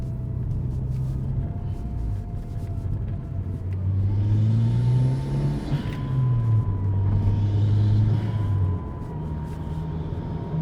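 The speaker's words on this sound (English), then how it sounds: "There you go, that fuel pump's awake now" A thin, steady whine from a noisy fuel pump on a Porsche GT4 runs over the car's low idling rumble, with the engine swelling briefly in the middle.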